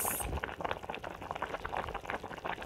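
Pumpkin leaves and smoked beef simmer in a pot, with bubbling and gurgling liquid popping in an irregular, continuous patter, close and moderately quiet.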